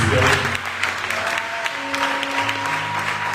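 A church congregation claps to acclaim the Lord, a steady broad burst of applause that starts loud and carries on under a voice and sustained musical tones.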